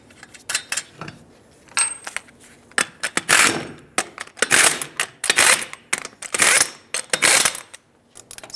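Lug nuts on a 2002-06 Toyota Camry rear wheel are run down with an impact or power tool in repeated rattling, clattering bursts, loud and close, with short pauses between each nut.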